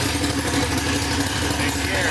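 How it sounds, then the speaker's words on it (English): A K24-swapped Honda EK car idles just after a cold start, its engine holding a steady, slightly raised rumble close by with no change in pitch through the short stretch. "Cold start, so you know you gotta let it come down a little bit."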